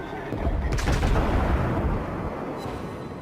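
Main guns of the battleship USS Colorado fire shells in World of Warships, a dull, deep cannon report with a rumbling low tail heard at moderate loudness, with no voices.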